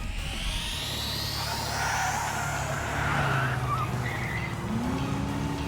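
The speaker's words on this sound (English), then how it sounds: "Is that a turbocharger?" Racing engine of a turbocharged car in the video game Trails into Daybreak, a steady loud roar with rising revs and a brief tire squeal, over continuous game music, with no voices.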